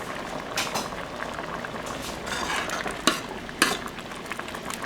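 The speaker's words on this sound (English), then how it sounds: "So the dal has been boiling for around 50 minutes right now." Dal bubbling steadily in a pot on a stove after about 50 minutes of boiling, with a couple of sharp clinks of a utensil against metal near the end.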